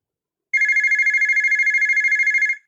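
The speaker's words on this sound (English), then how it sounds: "Just then, the telephone rang in the hall." A telephone rings in a house hallway, sounding a steady, rapid electronic trill that runs unbroken for about two seconds after a brief silence, loud and clear with no talking.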